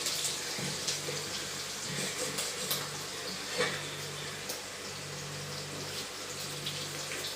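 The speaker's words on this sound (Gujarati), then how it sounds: "હવે હું પાણી નાખું" Water poured into a cooking pan makes a continuous close splashing gush with faint bubbling and a few clinks, steady throughout.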